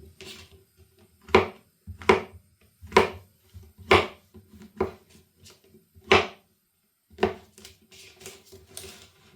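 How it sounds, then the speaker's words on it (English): A knife chops mushrooms on a board, with about eight sharp taps at an uneven pace and brief pauses between them. "I'm also going to be chopping some mushrooms up."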